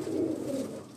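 A Mughal Azam breed pigeon, an old breed also called Ali wala or Glodu, gives a single low, rolling coo up close on a rooftop, fading at the end.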